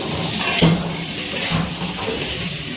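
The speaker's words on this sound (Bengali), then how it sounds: "আবারও একটুখানি নাড়াচাড়া করে মিশিয়ে নিচ্ছি সব কিছু" A spoon stirs new potatoes and peas in a cooking pot for a vegetarian aloo dum, giving a few soft scrapes and light metallic clinks with a gentle sizzle underneath.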